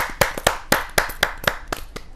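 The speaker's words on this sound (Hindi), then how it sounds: "जोरदार ताली के साथ राकेश रतन जी का स्वागत है।" A studio audience claps to welcome a poet onto the stage at a televised Hindi kavi sammelan, with about eight sharp, evenly spaced hand claps close to the microphone and no talk.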